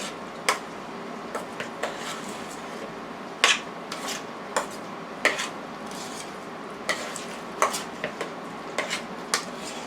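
Potato salad with corn and peppers is mixed in a bowl, a spoon clinking and scraping against the sides in irregular sharp taps over a soft, wet stirring rustle, close and alone.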